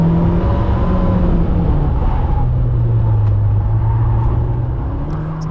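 Race car at a sprint event at Abingdon, a loud steady engine roar with a low droning pitch that shifts slightly as it drives, heard close and continuous with no talking.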